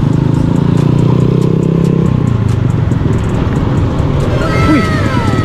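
Vespa scooter engine revving loudly close by at a busy roadside, a steady droning roar that shifts pitch about two seconds in, with more traffic noise toward the end.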